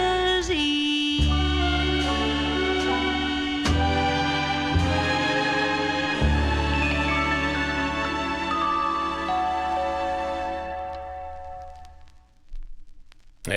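A song recording plays from a vinyl record, a sustained vocal over lush orchestral backing that fades toward the end.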